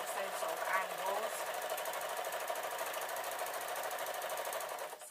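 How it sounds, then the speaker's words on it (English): A sewing machine runs in a steady fast mechanical chatter while stitching a small cotton tote, close and continuous for several seconds, with a voice talking briefly near the start. "So what I'm going to do is I'm going to sew onto this so that I don't have to waste too much cotton"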